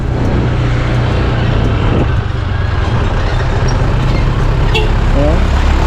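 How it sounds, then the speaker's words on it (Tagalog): A truck rumbles along just behind on a road, steady and loud. Heavy engine and road noise fill the scene, with brief higher squeals near the end. "Nasa likod po natin yung truck."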